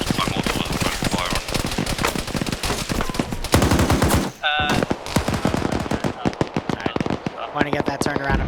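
Rapid automatic gunfire rattles almost continuously through a military op in a video game, with dense bursts of shots, a brief gap, then more fire, while a voice talks over it.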